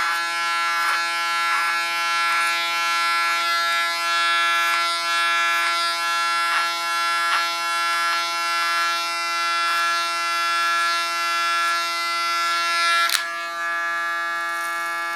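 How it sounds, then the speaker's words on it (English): An electric hair clipper buzzes steadily and close, a constant high hum with small dips in pitch as it shaves through short hair, alone with no talk. "Setting the hair straight up with my comb because then the shaving is nicer"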